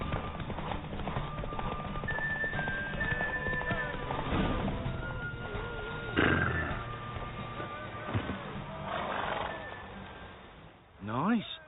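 Horse hooves clip-clopping in a gallop during a race in The Witcher 3, a steady drumming under game music and voices, with a whinny-like swell near the end.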